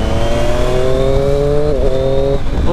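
A Triumph Street Triple RS sport motorcycle's high-revving engine screams upward in pitch, briefly dips during a gear change, then climbs again, loud and close.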